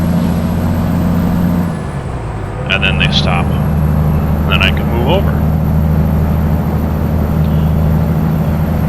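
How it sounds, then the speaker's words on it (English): A Peterbilt 389 truck with a Detroit engine, in American Truck Simulator, gives a steady, loud, low exhaust drone throughout while someone talks over it. "the exhaust sounds awesome with this Detroit power"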